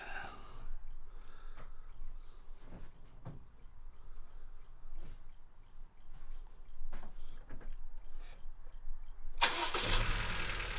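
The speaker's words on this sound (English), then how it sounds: "You start the car, and we can see if this thing flashes" A 2016 Honda Civic 1.8 VTEC with a cylinder misfire, its engine heard close after some quiet shuffling and clicks, cranking then catching into a loud, rough start near the end.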